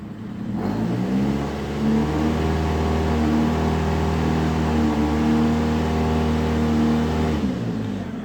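A Chevy Aveo engine holds a steady, loud, droning rev under throttle against a stalled automatic transmission, rising in after a moment, sustaining a strained tone for several seconds, then dropping away near the end.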